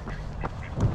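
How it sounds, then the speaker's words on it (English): Ducks quack along a roadside during an outdoor long-distance run, a short burst of moderately loud calls near the end over steady outdoor background noise. "Hello, ducks."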